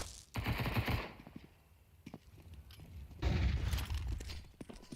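Rapid bursts of gunfire fill a pistol round in a Counter-Strike esports match, loud crackling volleys at the start and again near the end, with sparser single shots and a grenade pop between them.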